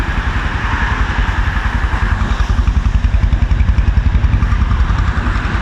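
A 2005 Kawasaki Boss 175 motorcycle engine idles steadily up close, with a loud, even, rapid thumping and a mechanical clatter throughout. No one speaks.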